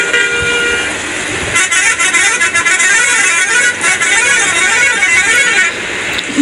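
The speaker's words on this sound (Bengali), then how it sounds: "এটা লেগে ইন্ডিয়ান একটা হরেন লাগাই দিছি" An Indian-style horn fitted on a bus blares repeatedly, a loud bright multi-tone honking that wavers in a looping melodic pattern over engine rumble, sounding close and persistent.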